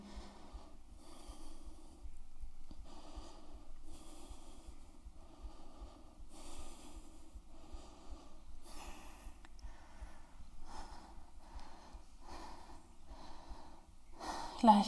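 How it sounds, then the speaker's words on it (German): Heavy, rhythmic breathing after a quick home fitness workout, with repeated snorting exhales and gasps in steady bursts, fairly close and continuous for the whole stretch. "Versuch hier schon relativ langsam zu atmen, deinen Atem wiederzufinden."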